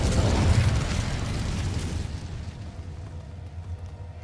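A fire spell blasts off in Hogwarts Legacy: a sharp fiery burst and boom that swells at the start, then decays into a fading crackling rumble.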